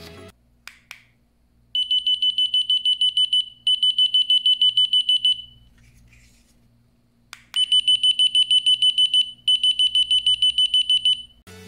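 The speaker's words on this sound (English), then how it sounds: "I have to press the B button to use the green colored beeper." A Mint H wireless item finder's green beeper sounds in two bursts of rapid, shrill electronic beeps, each burst made of two quick trains with a short pause between, loud and close with a few clicks before each burst.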